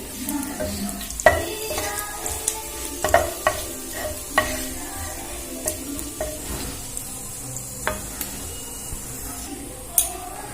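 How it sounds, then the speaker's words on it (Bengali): Whole cumin seeds fry in hot oil with a steady crackling sizzle, punctuated by repeated sharp taps and scrapes of a spatula in the pan, close and without speech. "এবারে দিয়ে দেব গোটা জিরে, জিরেটা হালকা ভেজে নেব"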